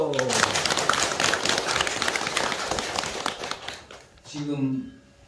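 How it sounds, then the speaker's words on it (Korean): Applause from an audience gathered for a Buddhist ceremony at a temple in Gapyeong, a dense crackle of clapping running for several seconds before fading out as a voice starts to speak. "박수."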